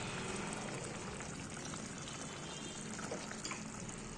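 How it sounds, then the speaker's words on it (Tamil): Steady bubbling and sizzling of a vegetarian gravy simmering in a pan, a continuous soft crackle with no voices. "இப்போ வந்து இது ஒரு கொதி கொதிக்க விட்டு இறக்கிடலாம்"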